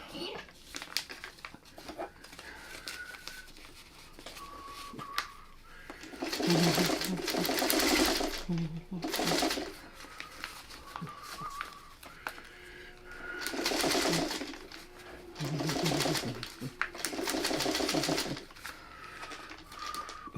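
A sewing machine stitches a curve on a quilt block, running in several bursts of a few seconds each with pauses between, loud and close, with brief quiet gaps and faint background noise.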